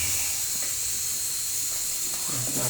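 A pressure cooker cooking rice on a gas stove lets out a steady, loud hiss of escaping steam that lasts throughout, with faint low kitchen noises underneath.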